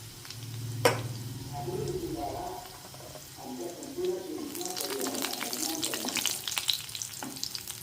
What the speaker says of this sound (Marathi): कढीपत्ता पण तडतडला आहे